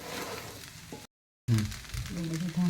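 Batata poha with potatoes and lemon juice sizzling and being stirred in a pan, a soft steady crackle broken by a brief silent gap, with a voice talking over part of it.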